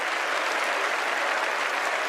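Sustained, steady applause from a legislative audience of House members following a speech, a dense wash of clapping at even loudness throughout with no talk over it.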